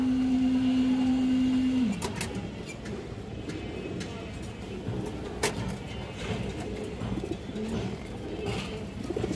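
Pigeons coo softly in a loft housing racing and flying breeds, a steady low murmur of calls running throughout after a brief hum at the start.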